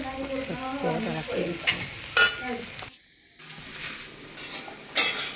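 Beef fry sizzling in a pan while being stirred, with scraping strokes and a few clinks of utensil against metal, moderately close, pausing briefly in the middle before the sizzle and stirring resume.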